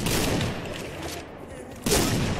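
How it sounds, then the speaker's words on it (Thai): Rapid bursts of gunfire from a shooting video game crackle in quick succession, loud and close, with a fresh burst near the end. "ผมยิงกระจายแค่นั้นเองขอแค่ให้ได้ยิง"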